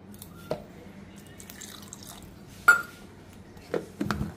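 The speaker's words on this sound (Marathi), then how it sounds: "आता याच्यात थोडंसं पाणी घालते" A little water is added to soaked lentils with coriander and green chili for appe batter, heard as a few sparse drips and small splashes against a quiet background.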